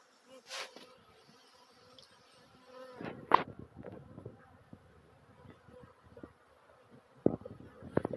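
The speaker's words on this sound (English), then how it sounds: "the amount of bees that is flying around the Kenyatta hive" Bees fly around a top bar hive in Jamaica, making a faint, wavering buzz with individual insects passing close now and then in short louder swells.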